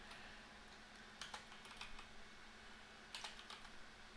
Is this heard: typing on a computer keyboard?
yes